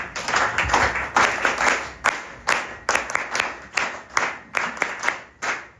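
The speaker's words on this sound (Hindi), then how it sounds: "अब फिर से एक बार वीर ताली बजाएंगे।" Audience clapping at an Arya Samaj Navratri mahayagna gathering, coming in short rhythmic bursts that rise and fall about once a second, fairly close and loud, with no one speaking.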